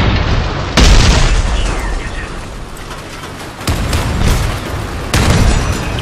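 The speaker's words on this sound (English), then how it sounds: "He's gonna explode." Loud booming blasts from a combat vehicle blowing up in the video game Crossout, in a winter battle: one heavy explosion, a rumbling stretch, then two more sharp bursts with crackling debris.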